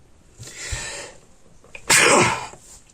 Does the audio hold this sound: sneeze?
yes